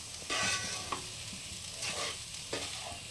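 Flattened rice fries in a pan in a Bengali-style poha, giving a soft sizzle broken by a few scraping stirs of the spatula; quiet and close, with no voices.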